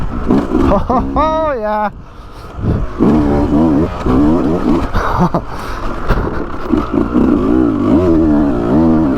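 Beta 200RR two-stroke dirt bike on a snowy single track, engine revving and rising in pitch through a short burst near the start, then droning steadily up close while a rider's voice comes in over it.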